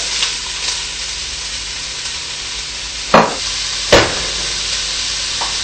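Chopped onion and celery frying in Australian olive oil in a pot, a steady soft sizzle running throughout with two sharp stirring clatters near the middle.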